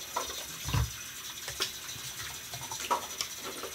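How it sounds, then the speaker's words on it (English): Cold water running from a bathroom tap during a wet shave, a soft, steady faint splash with a few brief louder splashes as hands or face are rinsed. "Cold water."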